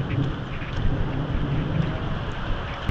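A typhoon sweeps through San Pablo City, Laguna, with wind and rain making a steady, loud, dense roar that fills the scene without pause and with no talking.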